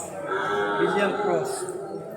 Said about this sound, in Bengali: এটা কি জাতের গরু?